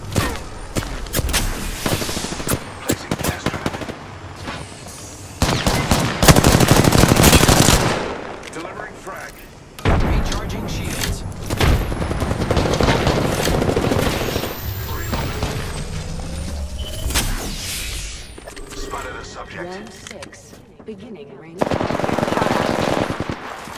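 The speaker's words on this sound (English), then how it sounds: "The enemies are shooting at me." Enemy gunfire in Apex Legends, long loud bursts of rapid automatic fire separated by short quiet gaps, close and harsh, with a voice speaking at times between the bursts.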